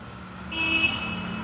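A single sustained horn beep from a 2024 TVS Sport 110 motorcycle cuts in after a moment and holds for about a second over a low idling engine rumble.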